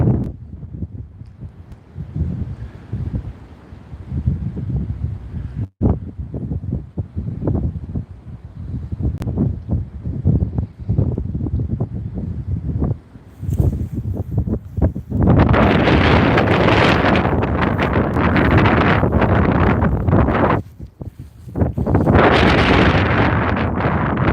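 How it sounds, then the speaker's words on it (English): Gusts of wind buffet the microphone in loud, rumbling bursts, easing briefly and then roaring back even stronger. "Yeah, it's windy."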